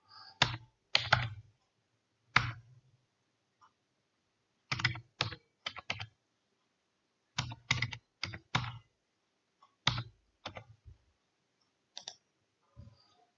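Computer keyboard typing and mouse clicking come in short close bursts of rapid key taps separated by quiet pauses, with single sharp clicks between them.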